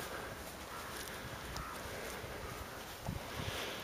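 Wind blowing through a February garden, a steady broad rush with gusty swells and faint rustling, close to the microphone and with no voices.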